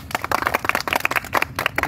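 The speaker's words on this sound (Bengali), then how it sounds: "একটা জোরে হাততালি" A crowd at a village balloon-bursting game, played with a blindfolded hammer, claps for the winner of a 5 kg bag of flour. The clapping is dense and steady and lasts a couple of seconds at moderate loudness.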